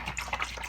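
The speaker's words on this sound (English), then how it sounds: "Okay, rinse it off." Acrylic paintbrush swished and rinsed in a water container, a brief close-up sloshing burst of liquid.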